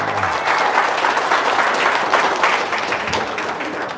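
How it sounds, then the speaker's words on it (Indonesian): Applause from an audience at a talk on selling, a dense even clapping of many hands, close and loud, fading slightly at the end. "Tepuk tangan dong."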